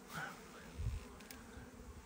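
Honeybees hum at a strong hive during the first spring inspection, a faint, steady buzz close by with a few slightly louder swells.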